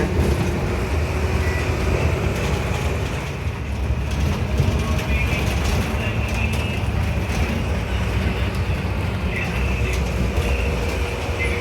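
A KSRTC bus speeding along a road with poor visibility, its steady broadband road roar and rumbling engine filling the whole stretch with constant rattling and wind noise from inside the cabin.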